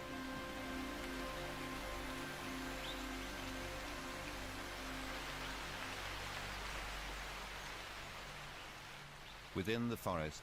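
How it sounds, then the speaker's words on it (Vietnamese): Monsoon rain pours steadily through a rainforest as a dense, even hiss that fades slightly near the end, where a brief sharp call breaks in. "Trong khu rừng, mưa đánh thức sự sống."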